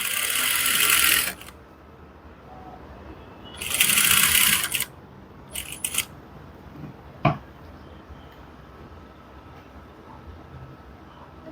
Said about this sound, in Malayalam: ക്രോസ് പീസായിട്ട് ഇങ്ങനെ സ്റ്റിച്ച് ചെയ്യുക.